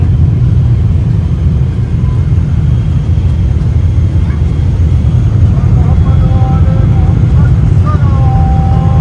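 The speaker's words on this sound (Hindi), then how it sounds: "हम लोग बगदाद लैंड कर रहे हैं" A passenger jet lands in Baghdad, heard from inside the cabin as a loud, constant low engine roar and rumble that fills the whole stretch, with faint voices murmuring underneath.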